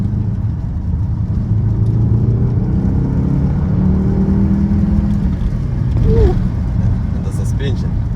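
A 2025 Mercedes-Benz GLS63 AMG drives through corners on suburban roads, its engine a steady, loud low rumble heard from inside the cabin, with only mild swells in the drone.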